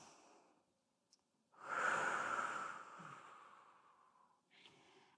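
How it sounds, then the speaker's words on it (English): A single long, breathy inhale-exhale whooshes close by during a stepping lunge exercise, preceded by softer breathing and a small click, then fading before another faint breath. "So again, I inhale."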